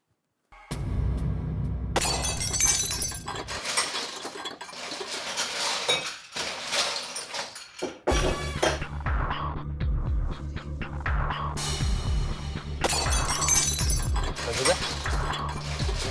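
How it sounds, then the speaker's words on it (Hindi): Kitchen utensils, pots and dishes falling and clattering in a home kitchen, loud crashing metallic bursts and rattles repeating in waves over a low droning hum, with short pauses between falls. "किचन से बर्तन गिरने की आवाज आ रही है।"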